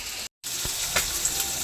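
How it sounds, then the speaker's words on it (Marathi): Kingfish sizzles and crackles in hot oil in a pan, a steady frying hiss with a brief dropout near the start. "इथे सुरमई फ्राय करत ठेवलेली आहे"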